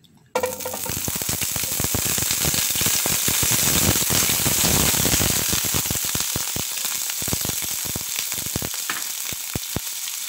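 Potatoes, soaked in water beforehand, sizzle and crackle loudly in hot oil, a dense continuous frying hiss with sharp spattering pops, fading slightly toward the end.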